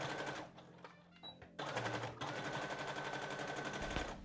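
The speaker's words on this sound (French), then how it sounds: "je viens coudre sur la lignée des aiguilles que j'avais placées" Sewing machine stitching a skirt along a pinned line, with bursts of rapid, rhythmic mechanical rattling close by, a short pause with small clicks, then steady stitching resuming to the end.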